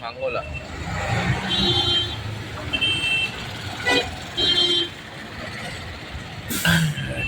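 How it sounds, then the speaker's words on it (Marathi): Busy Mumbai–Goa highway traffic with engines rumbling and several car horns honking in short bursts, plus a sharp air-brake hiss near the end. "ट्रॅफिक तर मजबूत आहे"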